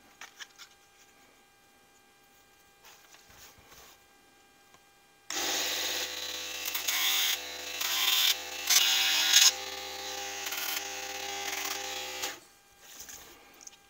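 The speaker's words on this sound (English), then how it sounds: "miniature belt sander." Miniature belt sander working on a wooden model ship skiff, a steady buzzing motor whine that kicks in abruptly after quiet hum, runs for about seven seconds with fluctuating grinding pitch, then stops.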